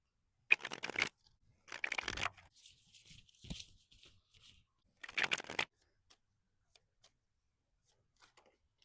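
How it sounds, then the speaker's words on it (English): Close shuffling of a tarot card deck in a few short bursts of riffling and sliding, separated by quiet pauses with faint ticks. "Let's shuffle your deck"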